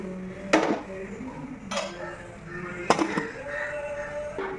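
A prawn curry pot in a Kerala kitchen gets covered and stirred, with three or four sharp metallic clanks of lid and spoon against the pot standing out over quiet background noise.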